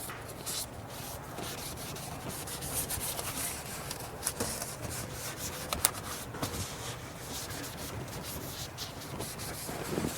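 Brake dust being scrubbed off an aluminum front brake caliper on a Mercedes-Benz S550, a close, steady scratchy rubbing with irregular strokes and a few sharper clicks, moderately quiet, with no speech.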